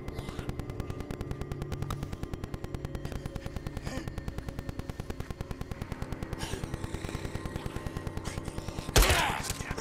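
Suppressed pistol fire in the video game Days Gone, a rapid, evenly spaced run of muffled shots repeating throughout, with a louder sharp burst near the end.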